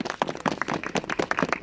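An audience at a Brest student-squad awards event applauds steadily, the clapping dense and continuous throughout the short stretch.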